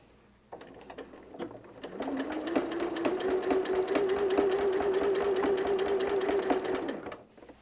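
A sewing machine back-stitches fabric with a regular straight stitch, starting up after a brief pause and whirring steadily for about five seconds before stopping, fairly close and clear.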